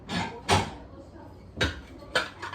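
Dishes and pots clatter in a home kitchen sink, four sharp clinking knocks at irregular intervals over a quiet room background, fairly close.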